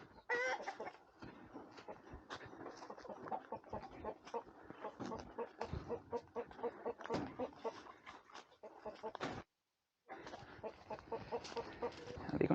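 Several chickens cluck busily and continuously at close range while being moved to fresh pasture, with one brief break of silence.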